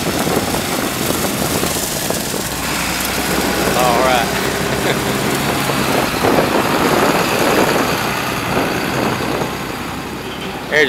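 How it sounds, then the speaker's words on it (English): A large tractor mowing a cotton field in Tunica, Mississippi, gives off a steady engine rumble heard from a passing vehicle amid road and wind noise, with someone talking over it. "There's a big old lawnmower for you, mowing the cotton. Beautiful tractor, man. Big old tractor."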